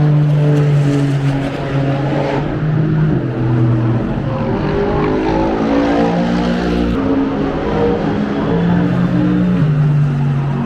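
Classic racing cars roar past on the Silverstone circuit, a loud, steady, overlapping engine drone with rising and falling pitches as several cars pass close by in sequence.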